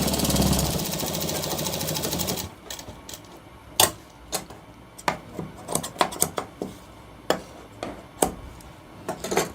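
A sewing machine stitches a shirt collar, its motor whirring in a steady run for a couple of seconds, then stopping and giving way to scattered sharp clicks and knocks of handling at close range.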